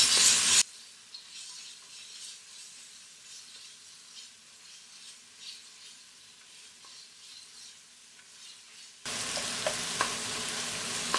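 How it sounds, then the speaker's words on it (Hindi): Chicken pieces sizzling in a pan, a soft steady frying hiss with occasional stirring scrapes, close and moderately quiet, bracketed by louder bursts at start and end. "चिकन को व्हाइट होने तक फ्राई करेंगे।"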